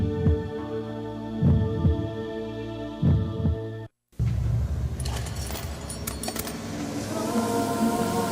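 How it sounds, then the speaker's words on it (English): A steady rhythmic heartbeat thumps at close range, several evenly spaced beats over a sustained musical drone, then gives way to a busier, noisier stretch with scattered clinks. "Heartbeat. Heartbeat."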